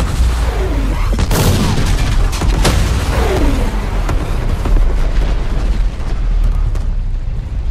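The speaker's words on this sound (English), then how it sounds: "As this massive explosion spreads through the fleet" A loud film special effects explosion erupts during a staged fleet battle scene for the Battle of the Blackwater, a series of heavy booms and blasts with crackling debris rolling over several seconds, dense and close.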